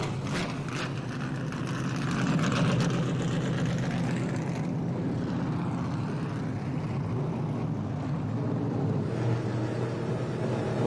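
Trans Am Series race cars fire up at WeatherTech Raceway Laguna Seca, a thick layered engine drone building and holding steady as multiple engines idle and rev together.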